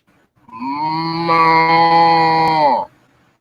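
A cow moos once, loud and close, in a single long, steady low call that stops abruptly, with near silence before and after it.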